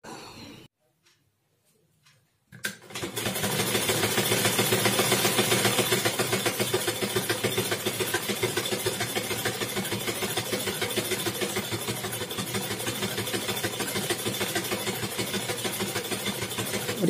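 A sewing machine stitches a cushion cover made from an old sari, running in a steady continuous mechanical hum after a brief quiet start, the machine running a little rough.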